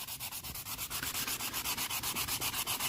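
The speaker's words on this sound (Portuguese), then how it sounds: "você pode estar lixando com água ou a seco" Steady back-and-forth sanding of burnt paint with sandpaper, a rhythmic scratchy rasp repeating about four times a second, close and continuous with no voices.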